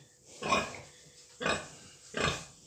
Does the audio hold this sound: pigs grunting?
yes